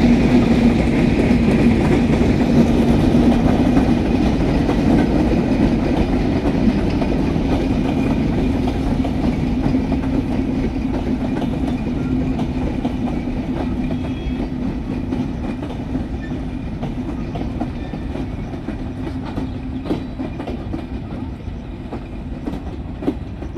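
An express train on Bangladesh Railway rolls through a curve at Darshana, a loud, continuous close rumble with rhythmic wheel clatter that eases slightly as it passes.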